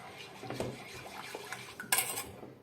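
A utensil stirs milk in a pot for a Turkish milk pudding. Close scraping and clinking against the pot's metal sides repeat with a soft liquid swish, ending with a sharper clank.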